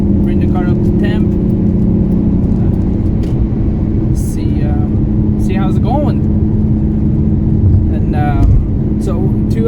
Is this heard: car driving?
yes